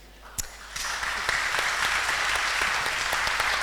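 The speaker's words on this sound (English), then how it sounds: "I'm not sure why you're clapping." An audience at a panel discussion's opening bursts into clapping after a brief quiet moment, building quickly into steady, dense applause from many hands that carries on without pause, moderately loud in a large room.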